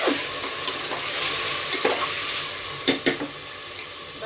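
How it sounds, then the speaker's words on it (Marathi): Mixed vegetables sautéing in a pan for a Marathi masala bhaat, a steady broadband sizzle with scraping spatula stirs and a few sharper clinks near the end, close and fairly loud with no talk. "आपण भाज्या घालूया आणि भाज्या एक 5 मिनिटं छान परतून घेऊया"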